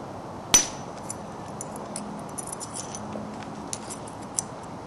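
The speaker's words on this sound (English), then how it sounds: "I'm driving that into the area I want to remove." Flint knapping, with a single sharp crack of a hammer striking a stone biface, then faint small ticks and clicks as the work continues in a quiet room.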